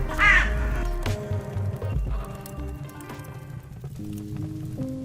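A crow caws once loudly near the start, then quieter calls follow over a soft patter of rain on a surface and a low background rumble.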